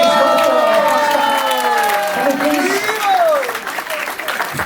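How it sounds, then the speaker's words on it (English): Applause and cheering from a crowd at a Janmashtami festival after a devotional drama performance, sustained clapping with raised voices and shouts layered over it, loud and steady throughout. "just for our last round of applause"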